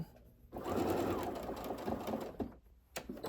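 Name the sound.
sewing machine stitching fabric, back and forward stitches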